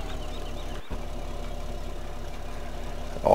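Tractor engine idling with a steady low rumble, close and continuous, briefly dipping near the start and swelling louder at the very end.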